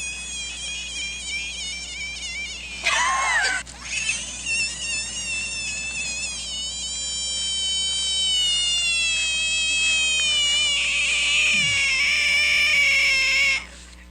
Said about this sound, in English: Every time someone tries to pick it up, it lets out a horrific scream